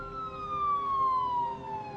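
A police car siren wails steadily as a single long tone that slowly falls in pitch, heard fairly close and alone, with no talk.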